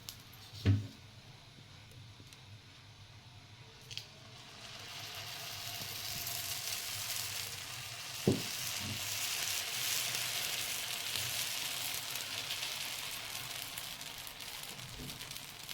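Sponge dosa batter cooks on a hot griddle over low gas, a soft steady sizzle that builds gradually, punctuated by a few sharp clicks and knocks of utensils nearby.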